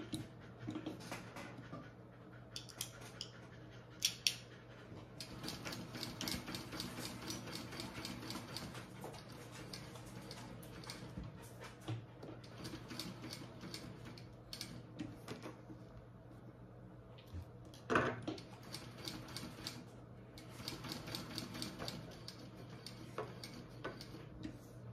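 A sewing machine stitching a piece onto a Louie waist pack runs in quiet, rapid, regular ticking bursts with short pauses between runs, faint and close in a still room.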